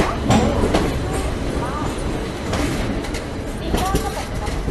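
Vande Bharat Express pulling into a platform in an Indian Railway simulation game, with a steady loud rolling rumble and clatter of wheels, faint birdsong, and station announcements spoken over it.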